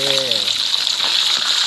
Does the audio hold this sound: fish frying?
yes